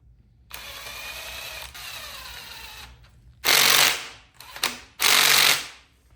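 An impact gun runs down timing chain bolts on a 2017 Subaru Crosstrek FB20/25 engine. After a quieter mechanical whir, it fires three loud, close rattling bursts, the middle one brief.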